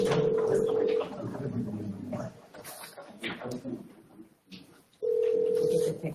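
A conference phone line dials out to add a caller to a borough council meeting, with a steady tone at the start and end and a person talking in between.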